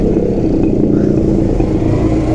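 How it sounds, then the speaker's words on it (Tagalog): A motor tricycle engine running close by, a steady rough rumble with slight revving and some rattling, without talk. "ito na tinatawag na motor tricycle"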